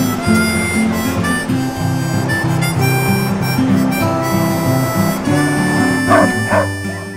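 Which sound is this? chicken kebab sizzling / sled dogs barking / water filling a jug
sled dogs barking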